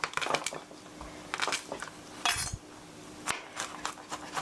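Small garlic cloves pressed and minced with metal utensils: a series of sharp clinks and crunchy squishing taps, close and fairly quiet, in irregular bursts with short pauses between.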